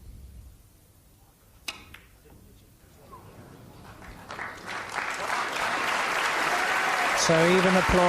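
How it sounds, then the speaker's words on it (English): A Crucible snooker crowd at the 1986 Steve Davis versus Joe Johnson match builds from a quiet hall with a faint knock into swelling applause for a century break, the clapping growing louder and fuller toward the end. "So even applause from Joe there for a lovely 100 break."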